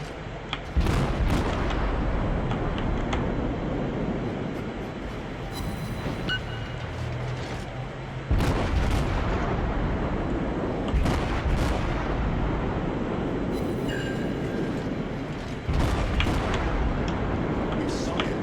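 Naval artillery fire in World of Warships: heavy shell salvos boom at intervals of several seconds over the steady rumble of a sailing ship, with loud close blasts and some crackling.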